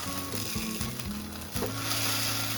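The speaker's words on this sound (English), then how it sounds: "Then you're gonna slap in those tacos, beef side down." Ground beef tacos laid beef side down in a hot pan, a loud continuous sizzle and crackle of frying meat filling every moment with steady spitting fat.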